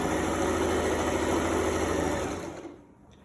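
A sewing machine stitches a garment seam, starting with a back stitch. Its steady, fast whirring hum is loud and close, then it slows and fades out near the end.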